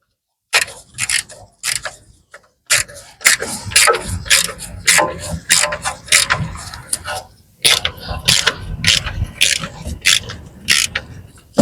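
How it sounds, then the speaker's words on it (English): Ratchet working a 10mm nut loose on a Tesla Model X front suspension, sharp rapid clicking in repeated bursts separated by short pauses, close and crisp. "I'm going to undo this 10mm nut here."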